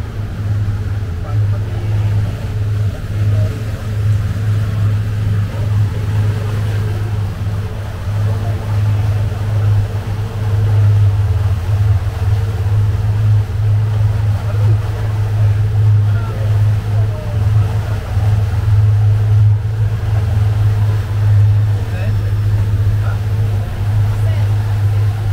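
A speedboat carries passengers out to The Naka Island. Its engine gives a steady, loud low drone that runs the whole time, with a wash of water and wind over it.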